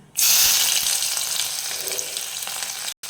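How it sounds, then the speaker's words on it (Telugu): Onions frying with curry leaves and dried red chillies in a little oil, a steady loud sizzle that starts abruptly and runs continuously, with faint stirring scrapes underneath and a brief cut near the end. "ఆనియన్ బ్రౌన్ కలర్ వచ్చే వరకు ఇలా కలుపుతూ ఉండాలి"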